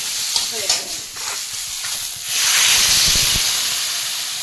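Water poured into a hot pan of vegetables with tomato and chilli for a fish curry gives a loud, steady hiss that swells midway after softer stirring scrapes, close and continuous.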